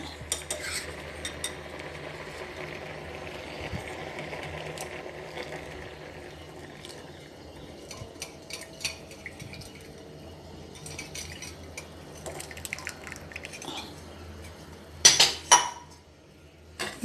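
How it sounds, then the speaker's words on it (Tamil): A spoon stirring jaggery syrup into banana payasam in a metal pot, giving soft scraping and scattered light clinks, with a sharper burst of clanks toward the end and no talking. "இது சேர்த்து இப்போ நல்லா கிளறி விடலாம்"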